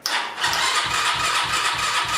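An Apollo DB36 engine cranks and catches, settling into a rhythmic, regular chugging beat at moderate loudness after a short initial burst.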